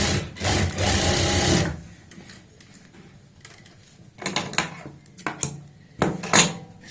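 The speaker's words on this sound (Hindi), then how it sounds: "यहाँ पे भी हम डबल सिलाई लगाएंगे क्योंकि फ्रंट और बैक के आसन में हमेशा डबल सिलाई होनी चाहिए।" Sewing machine double-stitching the seam of plazo pants, a fast whirring run of stitches followed by a pause, then short bursts of stitching with clicks and handling noises, close and loud.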